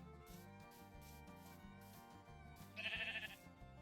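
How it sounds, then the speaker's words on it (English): Sheep bleating in the Minecraft video game, a short burst standing out near the end over steady in-game background music. "Hello, sheep."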